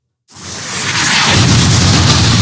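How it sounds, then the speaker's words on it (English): A layered explosion sound effect with its low thud layer removed: a sudden loud burst that swells into a sustained, bright roaring rumble filling the clip. "here's what it sounds like without the thud"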